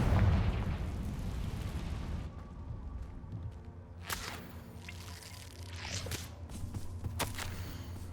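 A Confringo fire spell explodes in Hogwarts Legacy, a loud rumbling blast at the start fading into debris, then several sharper crackling bursts follow; no talking.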